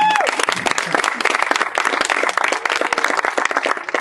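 Audience applause at a music and technology talk event, many hands clapping in a busy, crackling burst that starts loud and stays strong throughout, with a brief tonal sound at the very start.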